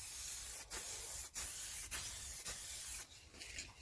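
Short bursts of an aerosol can spray lacquer onto the side of a Jaguar XK8, giving a close, steady hiss broken by four or five brief gaps, with no talking.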